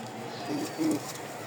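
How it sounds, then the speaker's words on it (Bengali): A pair of Rajshahi pilong high-flyer pigeons gives two short, soft, low coos, one after the other, faint against a quiet background hum. "এটাও কিন্তু মাশাল্লাহ উড়াবাজির একটা কবুতর, পিলং টাইপের"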